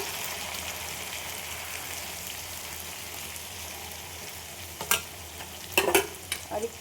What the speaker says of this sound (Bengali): আমি এবার এই চিকেনটা দিয়ে দিচ্ছি, সব লেগ পিস।